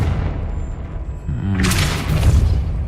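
Confringo blasting spell in Hogwarts Legacy, a burst of fiery crackling whoosh erupting midway over a low rumbling game background, no talking.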